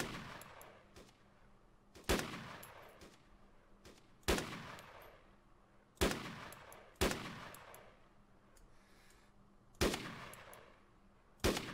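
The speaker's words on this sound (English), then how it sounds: "He's shooting at me." Video game gunfire from an enemy shooting at the player: single sharp shots and short bursts ring out at irregular intervals, each followed by a decaying echo, with quiet gaps between.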